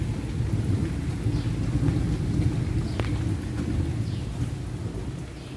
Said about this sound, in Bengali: দেখো শুনতে পাচ্ছ, এখনো কিন্তু মেঘ ডেকেই যাচ্ছে